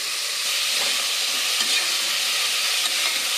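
Onions and green chillies saute in a pan for a ration-rice biryani, giving a steady, close, unbroken sizzle and hiss with no talk.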